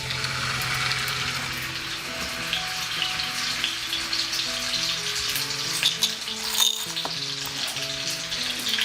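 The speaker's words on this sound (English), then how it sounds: "We just want a good sear on it" Stuffed pork chops sear in a hot skillet with enough oil to cover them, producing a loud, steady frying crackle and sizzle that runs throughout, with a brief utensil knock near the end and no speech.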